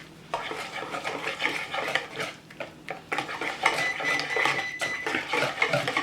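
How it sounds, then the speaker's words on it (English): A utensil clinks and scrapes around a bowl while sauce for a seafood sandwich with Old Bay seasoning is mixed: repeated close, rhythmic stirring strokes with short pauses, and no voice. "Then I'm going to mix this up together first,"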